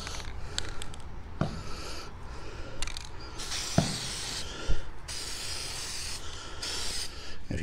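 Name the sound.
spray painting brackets with spray paint can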